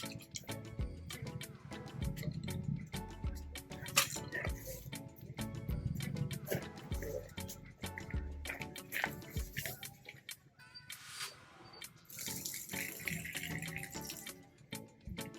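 Water from a tap splashing into a camping sink on a fillet table, a busy, dripping, trickling flow, fairly faint and close throughout.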